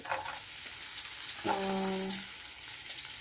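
Ginger goes into a hot pan and fries with a soft, steady sizzle, rising briefly when it lands, with faint clinks of a utensil and no talking.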